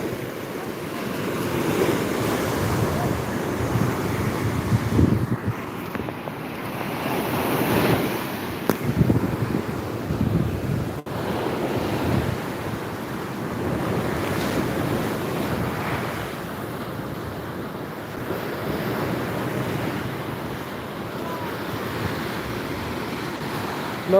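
Sea waves surge and crash continuously on the shore at Chilika, a loud, steady roar of surf with gusts of wind buffeting the microphone throughout.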